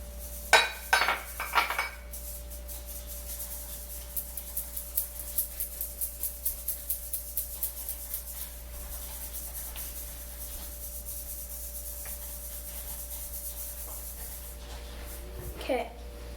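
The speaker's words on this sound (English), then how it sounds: "since we've sifted our dry ingredients now" Dry ingredients for banana bread are sifted in a kitchen, a run of regular soft metallic taps and rattles from the sifter, with a few louder clinks at the start and end and quiet background hum.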